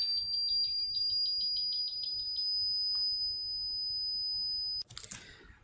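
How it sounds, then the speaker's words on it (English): A mechanical buzzer with multiple resonant frequencies drones piercingly and high-pitched for nearly five seconds, fluttering slightly at first, then cuts off into a few clicks. "this particular buzzer, it's a mechanical buzzer, it has rather different positions where it's loudest"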